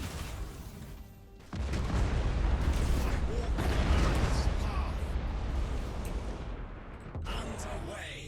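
Torpedo fire in the space strategy game Battlefleet Gothic: Armada 2, a sustained roar of booming launches and rumbling blasts lasting several seconds, with a brief lull near the start and a short break near the end, mixed under speech.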